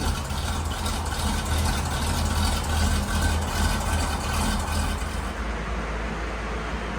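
A big block Camaro engine runs steadily at idle, a loud continuous low rumble filling the shop with no talk over it and no revving changes.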